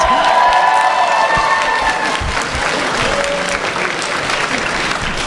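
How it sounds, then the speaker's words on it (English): Convention audience at a fan panel bursts into sustained applause with some cheering, loud and dense, holding steady throughout with a brief voice near the start. "Give a round of applause for that"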